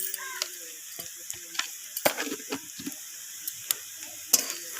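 Spices fry with onions in a pan for masoor dal: a soft steady sizzle runs throughout, punctuated by scattered clicks and scrapes from stirring.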